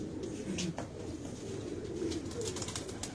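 Pigeons coo softly and repeatedly, low and throaty, under steady background noise, with a few faint chirps above.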